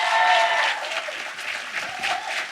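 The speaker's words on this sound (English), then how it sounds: "So please give everyone at SALT a huge round of applause." Audience at a live podcast show gives a round of applause, brisk clapping that starts strong and slowly thins out over a couple of seconds.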